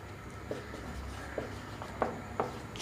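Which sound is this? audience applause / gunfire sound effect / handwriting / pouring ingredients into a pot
handwriting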